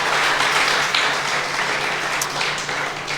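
A church congregation applauds steadily during a sermon, a dense wash of clapping that holds at an even level throughout.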